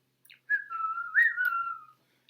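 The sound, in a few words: person whistling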